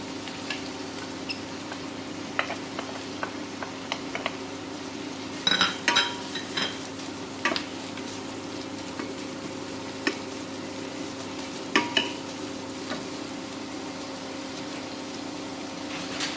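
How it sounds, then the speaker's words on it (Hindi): Onion frying lightly in heated oil for an egg and bread breakfast, a faint low sizzle under a steady hum, broken by scattered small clicks and scrapes of a utensil against the pan. "प्याज को हमें बस हल्का से ही फ्राई करना है"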